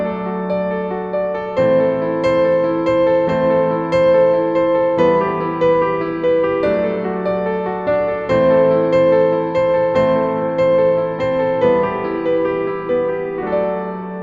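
Piano playing the repeating chord progression from a song, steady arpeggiated patterns that shift chords every couple of seconds, clear and close with no talking.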